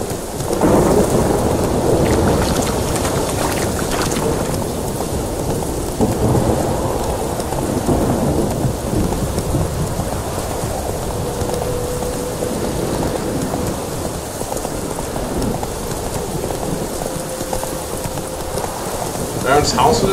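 Steady rain with rolling thunder in a stormy night scene from The Witcher 3: Wild Hunt, a dense continuous downpour with deep rumbles swelling throughout and a few brief tonal effects near the end.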